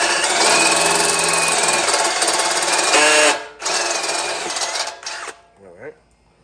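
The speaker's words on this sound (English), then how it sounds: "take my step drill bit and drill these threads out." A power drill with a step drill bit grinds loudly and steadily through metal, drilling out threads in a frame, slowing briefly mid-way, then winding down to a stop.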